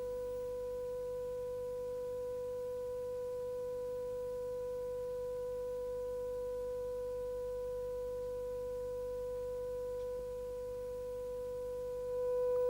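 A single steady pure tone of constant amplitude from a physics interference demonstration holds unchanged and alone for about twelve seconds over a faint background hum.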